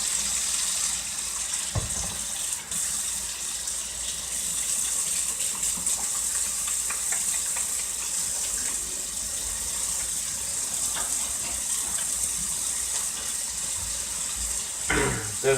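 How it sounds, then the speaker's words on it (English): Tap water running steadily for handwashing before cleaning fish, a loud continuous splashing flow with occasional knocks and shifts in the stream. "wash your hands."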